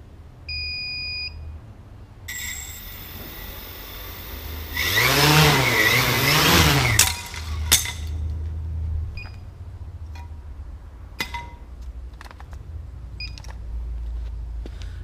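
Quadcopter motors with propellers fitted spin up during a vibration test, a rising and falling whine lasting about two seconds, preceded by electronic beeps and followed by scattered clicks and faint tones.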